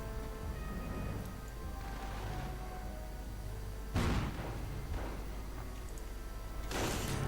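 A tank destroyer fires in a World War II strategy game, and two heavy booms at about four and seven seconds punch out over a constant low rumble of battle ambience.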